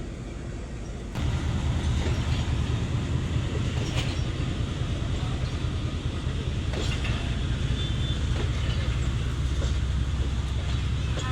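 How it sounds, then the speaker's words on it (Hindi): The 13 Up Awam Express with old coaches rolls along at steady speed, a loud continuous rumble with rhythmic clickety-clack of wheels over rail joints and occasional creaks. "तो जी ये 13 अप अवाम एक्सप्रेस अपने अगले सफ़र पर पेशावर"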